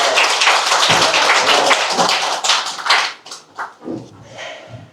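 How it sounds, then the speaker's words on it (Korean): Applause from a crowd at an election campaign office opening, dense and steady for about three seconds before thinning out into scattered claps and a few voices. "모두 큰 박수 부탁드리겠습니다"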